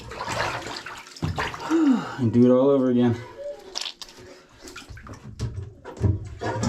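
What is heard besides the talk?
bathtub water draining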